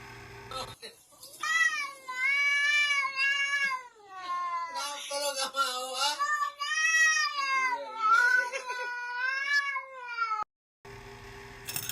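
A cat meowing and caterwauling in long drawn-out, wavering yowls, close and loud, several calls in a row with brief pauses between them.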